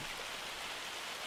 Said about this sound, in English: Oh, and it's just started raining.